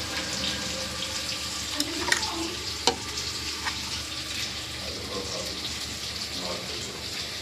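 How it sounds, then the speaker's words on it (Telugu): Fish pieces go into a simmering tamarind curry in a pot, giving a steady close bubbling hiss with a few soft plops and stirring knocks. "ఫిష్ ముక్కలు వేసుకోవాలి."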